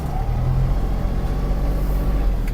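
A Kubota KT-27 mini tractor with cab shifts into second gear, its engine a close, steady low rumble throughout with no clear break.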